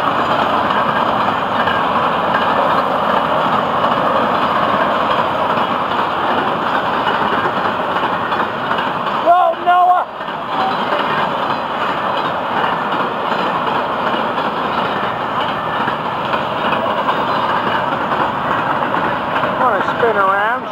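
A long double-stack container freight train on the FEC rumbles steadily past at close range, wheels clacking and cars rattling continuously, with a brief squeal partway through.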